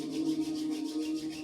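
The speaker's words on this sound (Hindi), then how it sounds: "वापस रब करेंगे।" Palms rubbing briskly together up close, a soft continuous swishing friction with a gentle pulsing rhythm, quiet and alone during a guided yoga exercise.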